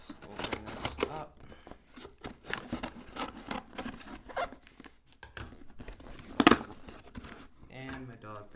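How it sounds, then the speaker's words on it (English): Amazon package holding a pilot headset being opened, with crinkling, tearing and snipping noises in bursts, one sharp rip, and a person talking at times. "let's open this up"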